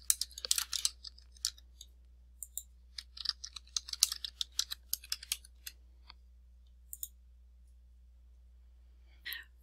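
A username and password typed on a computer keyboard: quiet, close keystroke clicks in quick uneven bursts, thinning into sparse taps with pauses and a final short flurry.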